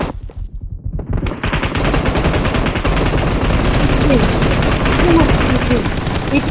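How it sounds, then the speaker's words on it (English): Rapid gunfire from the battle-royale video game PUBG, dense automatic bursts and shots running almost continuously and loud, with game effects and faint voices mixed underneath. "Nice shot."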